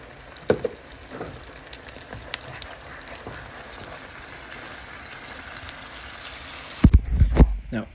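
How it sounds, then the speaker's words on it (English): Chorizo frying in a pan gives a steady, close sizzle with light crackles, then a few louder clattering stirs and scrapes near the end. "Got the chorizo cooking."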